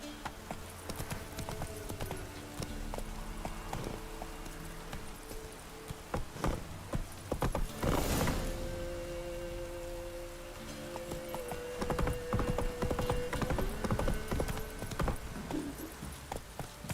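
Horse hooves clatter in a steady clip-clop rhythm as Geralt rides in The Witcher 3, with game ambience, a brief louder whoosh around the middle, and faint music tones underneath.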